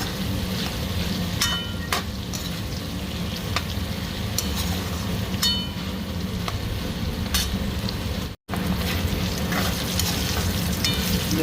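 Bitter gourd frying in hot oil with salt and turmeric gives a steady, close sizzle throughout, with occasional sharp stirring clicks and a brief dropout near the end.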